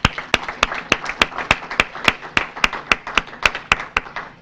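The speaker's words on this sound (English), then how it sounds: "a round of applause for the award winners" A few people clap for award winners at a morning staff event, a sparse, steady rhythm of sharp, evenly spaced claps, close and alone.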